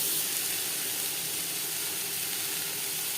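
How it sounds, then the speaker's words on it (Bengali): Cut potatoes land in hot oil with fried cumin seeds and give off a steady, close, hissing sizzle that holds even throughout, with no talk. "জিরে ভেজে নেওয়ার পর দিয়ে দেবো আলু"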